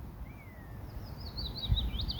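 A willow warbler's thin, high warbling song trills in a descending phrase, faint and distant over a low outdoor rumble in Sherwood Forest.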